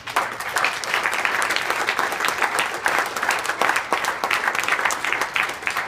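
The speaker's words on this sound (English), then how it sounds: "But give yourself applause." An audience at a newspaper staff celebration of a Pulitzer Prize win applauds with dense, steady clapping that lasts the whole stretch without pause.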